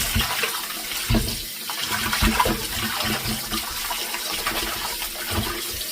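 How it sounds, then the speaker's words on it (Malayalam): Sardines are rinsed in water in a kitchen for a Sunday sardine fry, with steady splashing and sloshing running for several seconds. The sound is close and moderately loud, with no one talking. "എനിക്ക് മത്തിയൊക്കെ നല്ലതുപോലെ നമ്മൾ കഴുകി കൊടുക്കണം"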